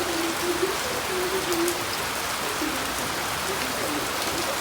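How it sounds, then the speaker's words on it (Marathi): Heavy rain falls hard and continuously outside a home, a dense, even wash of sound with a faint voice murmuring underneath at times. "बघा कसा पाऊस चालू मस्त एकदम जोरात"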